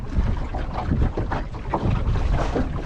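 Strong wind buffeting the microphone aboard a sailboat on a reach, a loud, constant low roar with gusty surges and water wash underneath, no voices.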